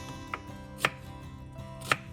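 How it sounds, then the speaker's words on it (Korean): A knife cuts onion into large pieces on a cutting board, three sharp, separate chops spaced unevenly and heard close up over a quiet background, with no talking. "양파는 식감이 좋게 큼지막하게 썰어주세요"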